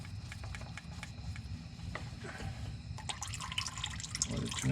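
Motor oil slowly draining from a Dodge Challenger ScatPack Shaker during an oil change, a steady low trickle with scattered drips throughout and no talk.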